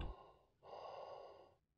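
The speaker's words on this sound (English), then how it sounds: "It's breathing." A creature in a Minecraft horror map gives a short breathy snort, then one long, close, hissing exhale that fades out, heard alone in a quiet space.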